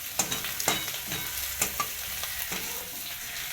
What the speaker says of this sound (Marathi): छान असं प्रज्ञा मिक्स करून घेत आहे सगळं टाकली कोथिंबीर